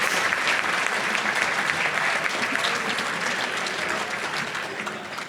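Sustained applause from an audience at a Federalist Society 40th-anniversary toast, a dense steady wash of clapping hands that stays loud throughout and tapers only slightly near the end.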